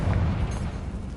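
A deep, rumbling magical blast from the Confringo spell in Hogwarts Legacy, one loud, close burst of low booming energy that fills the whole short moment.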